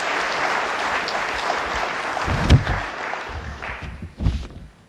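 An audience at a national workshop applauds steadily, a dense wash of clapping that swells briefly near the middle and fades toward the end, with no talk over it.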